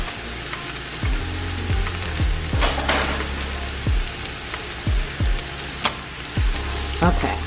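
Cream cheese sizzles and crackles steadily in a hot pan while a spoon scrapes and stirs it in repeated strokes, close and loud with no talking.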